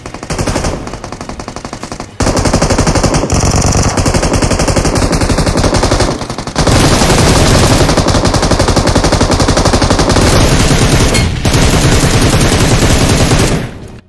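Gunfire in the mobile battle royale BGMI rattles in long, loud automatic bursts, near and relentless, broken by a few brief pauses, with no talk over it.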